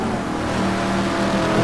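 A GT2 race car in a racing video game accelerates out of the pit lane at Laguna Seca, a loud, steady engine drone that rises slightly, with no talk.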